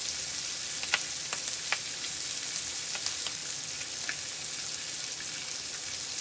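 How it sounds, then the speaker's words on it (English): Pork sizzles steadily on a hot griddle for breakfast smash burgers, a constant frying hiss broken by a few small pops and crackles. "We're going to let the pork cook."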